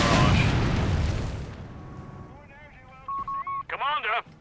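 Artillery barrage explosions in Company of Heroes 3, a heavy rumbling blast that fades over about a second and a half, followed by beeping game alert tones and a short radio voice.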